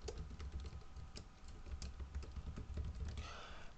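Someone types an email address on a computer keyboard, a quick run of close, soft key taps in an uneven rhythm over a low hum.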